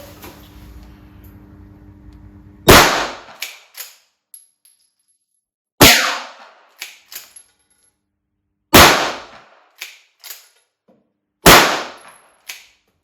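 Four loud, sharp shots from a Southern Gun Co LAR9mm lever-action carbine, spaced about three seconds apart, each followed by quick metallic clacks of the lever cycling; a low mechanical hum precedes the first shot.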